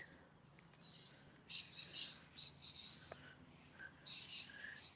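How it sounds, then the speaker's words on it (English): Magpies call faintly from some distance in the palm-dotted grounds of an old building, a series of short chattering bursts over quiet background. "Hear the magpies?"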